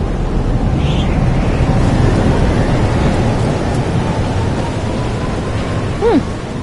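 Heavy thunderstorm in the video game Life is Strange: Double Exposure, with a deep rolling rumble of thunder over steady loud rain, continuous throughout.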